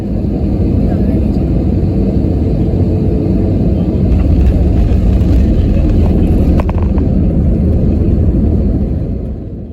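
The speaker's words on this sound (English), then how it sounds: "The pilot made a lovely smooth landing, and we soon taxied to the gate" Air Asia India airliner taxiing to the gate after landing at Cochin, heard from inside the cabin as a loud, steady engine drone and low rumble that continues unbroken throughout.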